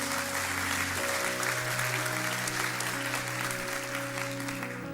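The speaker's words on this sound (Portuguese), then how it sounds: "Dê o melhor aplauso que você pode dar ao Senhor" A church congregation at a Sunday morning service breaks into loud, sustained applause, a dense wash of clapping that holds steady throughout while soft, sustained keyboard tones ring underneath.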